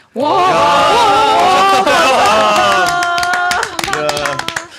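Audience clapping at a Daegu political campaign event for Kim Boo-kyum, heard under a loud voice singing with emotion, with crisp scattered hand claps standing out more clearly in the final seconds.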